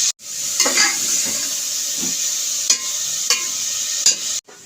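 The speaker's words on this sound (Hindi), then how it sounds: "कीमा डाल के इसकी खूब अच्छी तरीके से भुनाई करेंगे।" Half a kilo of minced meat sizzles steadily in a hot pan while a spoon stirs it, with close scraping strokes and clinks breaking through the continuous frying hiss every second or so.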